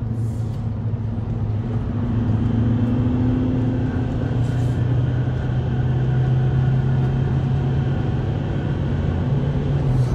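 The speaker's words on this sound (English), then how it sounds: "We are driving around the Nuremberg ring in a van, and Nigel's driving" A van lapping the Nuremberg racetrack, its engine droning steadily and loudly from inside the cabin for the whole stretch, with no talk.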